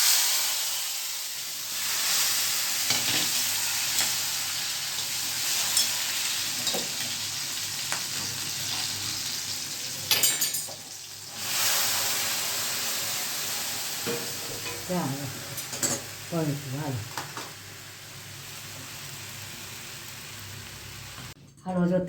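Tomatoes hit hot oil already seasoned with mustard seeds, curry leaves, dried chilies and asafoetida, giving a continuous hissing sizzle with stirring clatter while someone talks over the cooking.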